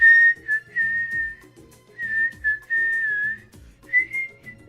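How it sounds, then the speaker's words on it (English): A person whistles a wavering tune in short phrases with brief gaps, fairly close and clear over a faint low background murmur. "I'm just whistling"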